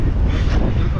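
Strong wind buffets the microphone at a beach, a loud, steady rumbling gust across the whole short moment, with no clear talk over it.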